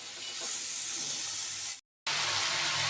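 Fish oil and onion frying on high heat in a pan, producing a loud, steady hiss of sizzling with a brief dropout of silence near the middle before the sizzle resumes.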